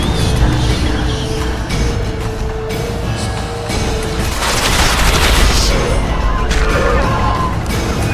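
Gunfire in The Witcher 2 rattles in a dense, loud battle din, with booms and crashing impacts layered over continuous noise for several seconds.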